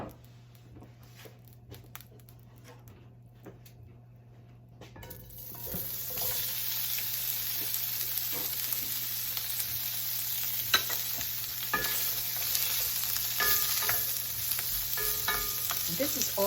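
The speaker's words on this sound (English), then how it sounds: "I think I'll cook the sausage" Already-cooked sausage browning in a little oil in a pan for a frittata; quiet at first, then a steady loud sizzle swells in with scattered pops and utensil clicks, close and alone.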